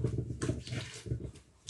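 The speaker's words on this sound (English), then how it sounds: "So you scoop the water out this way." Water is scooped out of a pot of boiled yam with soft, repeated sloshing and splashing, quiet and close, with no talk.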